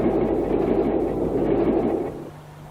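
A British Rail Class 26 diesel locomotive hauling a freight train rumbles past, a heavy broadband roar that holds steady and then falls away quickly near the end, with nobody speaking.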